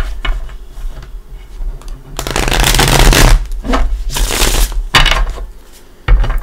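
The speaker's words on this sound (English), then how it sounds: "One more shuffle." A deck of tarot cards is shuffled by hand in loud bursts of riffling and flicking, with brief pauses between passes and near, close-up handling throughout.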